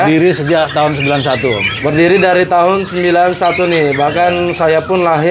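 Caged songbirds chirp and squawk at a second-floor kiosk in the Pramuka bird market, their calls running close behind continuous conversation between men.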